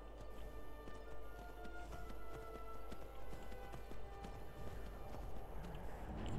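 A horse gallops along in the video game Skyrim, a steady rapid clip-clop of hooves running continuously under a constant game background hum, with no voice heard.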